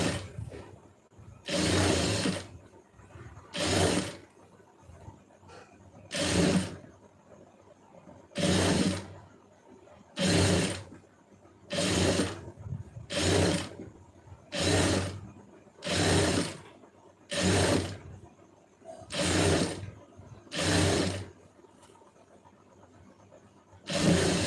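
Sewing machine stitching a shoulder seam on a garment, heard as about a dozen short bursts of whirring, each a second or so long, separated by brief pauses.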